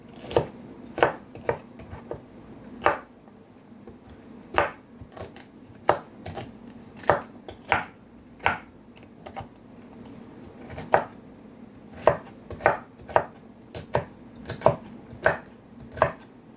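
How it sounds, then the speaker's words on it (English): Knife chopping fennel on a cutting board while making vegetable bouillon cubes, with many sharp, close chops, some in quick bursts and others spaced apart, and no talking. "All of the fennel, just chop everything."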